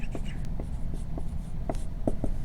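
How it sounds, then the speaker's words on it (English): Pen strokes scratch on paper while a math answer is written, short scratchy marks in an uneven rhythm over a low background hum. "So let's go ahead and write that down."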